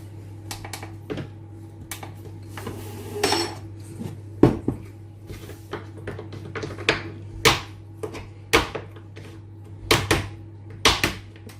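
A knife chops white chocolate on a board for white chocolate cranberry cookies, close and crisp. Scattered knocks settle into a steady run of sharp chopping hits.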